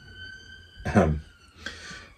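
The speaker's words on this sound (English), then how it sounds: "There's a siren going on somewhere." A siren wails faintly in the distance with a steady high tone, sitting behind a brief burst of nearby voice and low background noise.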